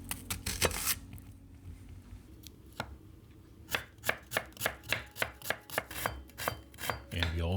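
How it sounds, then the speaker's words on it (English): A shallot chopped with a knife on a cutting board: a few scattered cuts at first, then a quick, even run of crisp knocks close up, with no talking. "We also need to chop 1 shallot."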